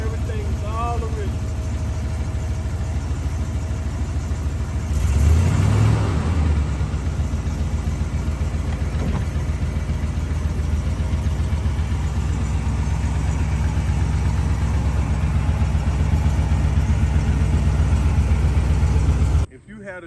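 A 1975 Chevrolet convertible Donk idles with a loud, steady, low engine rumble that runs almost the whole time, swelling briefly early on, while someone talks over it.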